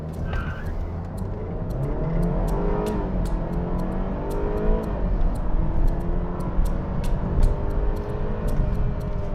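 A BMW 320i F30 on winter tyres accelerates hard, its engine note rising steadily through the gears with a continuous loud drone and faint tyre noise, close up and without talk.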